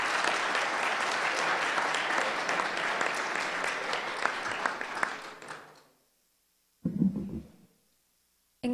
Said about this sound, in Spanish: agradecer una vez más con un fuerte aplauso a nuestros distinguidos panelistas